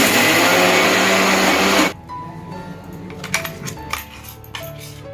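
Kitchen mixer grinder whirring loudly as it grinds soaked rice and fenugreek into batter, running for about two seconds before cutting off abruptly, followed by light clinks and handling noises.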